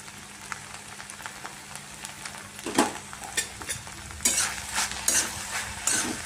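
Okra sizzles steadily in a pan as crushed garlic goes in, with a few scraping stirs and brief louder hissing bursts toward the end.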